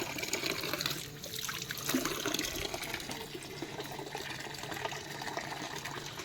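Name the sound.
washing hands under running water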